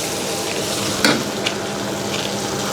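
Stir-frying in a pan ahead of adding baby clams, a constant hiss of frying with one sharp clatter of a utensil and a couple of lighter scrapes.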